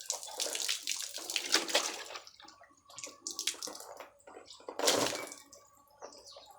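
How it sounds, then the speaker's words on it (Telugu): Water splashes and pours in irregular bursts as raw mutton is washed and squeezed by hand, close and fairly loud, with brief pauses between pours. "ఇలా పిసకాలి ఫ్రెండ్స్. వైట్నెస్ వచ్చేదాకా పిసకాలి నీళ్ళు పోసి."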